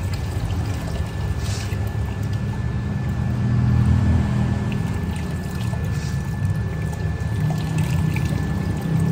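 A chemical solution is poured and splashed over aluminium parts during chrome coating, making a steady, continuous wet rushing pour that swells slightly midway, with no talking.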